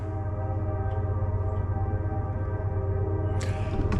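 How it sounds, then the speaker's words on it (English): A train passes near an outdoor work yard, giving a steady, droning, tonal rumble at moderate distance with no talking. "a train."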